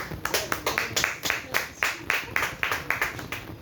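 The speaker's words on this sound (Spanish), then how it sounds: "démosle una alabanza de aplauso al que vive y reina por los siglos de los siglos" A church congregation claps in praise during a worship service, steady rhythmic applause with regular sharp beats over the full stretch, crowd noise and a faint voice beneath.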